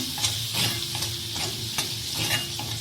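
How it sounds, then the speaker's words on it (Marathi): Salted tomatoes sautéing in a pan for paneer bhurji, giving a close, steady sizzle broken by repeated scraping stirs at an even rhythm, with no voices. "टमॅटो देखील परतवून घेऊया आणि याला आता नरम पडू देऊया आधी"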